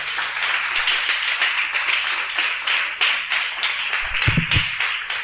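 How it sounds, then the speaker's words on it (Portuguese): A church congregation claps together in sustained, dense applause, steady throughout with a few louder individual claps standing out near the end. "Aplauda o Senhor em nome de Jesus."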